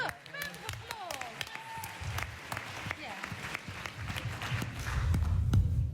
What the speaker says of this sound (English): Look, round of applause.